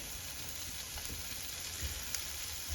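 White scallions frying in olive oil in a pan, giving a steady, fairly quiet sizzle with faint crackles and a light stirring clink, no talk.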